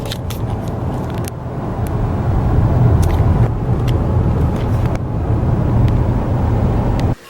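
Interior of a Ford Explorer on the road, a steady loud rumble of engine and tyre noise with wind buffeting throughout, ending abruptly.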